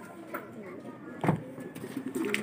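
Pigeons coo softly in a loft, the low murmuring calls rising and falling across the background with a brief louder burst near the middle, overlapped by faint rustling.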